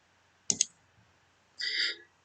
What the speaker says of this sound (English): Now we have to click on the create button.